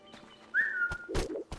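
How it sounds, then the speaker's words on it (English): A single short rising whistle is sounded in the video game Wildfire, fairly clear and close, surrounded by brief clicks and soft game noises. "you have to whistle for them to stop"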